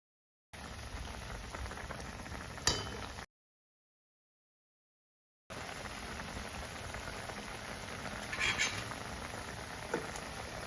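Thick vegetarian fish-style curry bubbles and simmers in a pot, a steady crackling patter of small pops, broken by a short silent gap partway through.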